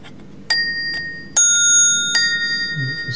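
A 1986 ITI telephone bell, a lookalike of the Indian 706 set, struck by a single-coil ringer, gives three sharp, ringing dings spaced under a second apart. Each strike leaves a long, bright, metallic decay, heard up close with a quiet background.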